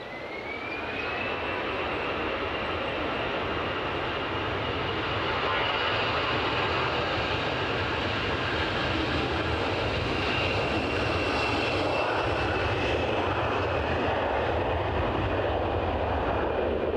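A jet airliner takes off from Edinburgh Airport on a short departure, its engine roar loud and sustained, swelling steadily and holding a rising whine throughout, with no talk over it.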